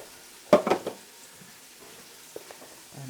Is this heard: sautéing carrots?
yes